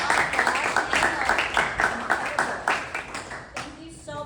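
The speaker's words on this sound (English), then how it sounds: "Let's have another round of applause" Audience applause at a film festival panel: a lively crowd claps steadily for several seconds, the clapping fading out toward the end as a voice begins speaking.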